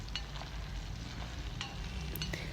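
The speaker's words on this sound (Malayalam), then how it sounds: "അതിലേക്ക് ഒന്ന് രണ്ട് തണ്ട് കറിവേപ്പിലും കൂടെ ചേർത്ത് കൊടുത്തിട്ട് ജസ്റ്റ് ഒന്ന് ഇളക്കി കൊടുക്കാം" Kozhuva (anchovy) fish frying over a high flame in hot oil with curry leaves, stirred in the pan: a steady close sizzle with light scraping stir sounds and no voices.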